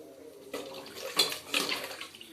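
Water is poured into a pot in a steady splashing stream, with a couple of louder gushes, close by.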